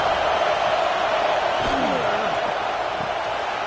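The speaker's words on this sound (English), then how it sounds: "Listen to the crowd energy here in the early going." Football stadium crowd at a Vanderbilt at Tennessee game, a steady roar of noise throughout, loud and continuous, with faint voices rising through the middle.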